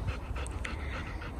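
A dog after a walk in the forest pants steadily in fast, breathy puffs, close by and moderately soft, with no talking.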